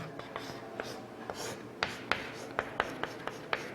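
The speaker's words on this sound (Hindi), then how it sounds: "ये मैं होमवर्क क्वेश्चन 4 के लिख रहा हूँ" A teacher writes out a matrices homework question on a board, making a steady run of sharp chalk taps and scratchy strokes in close succession for a few seconds, with no talking.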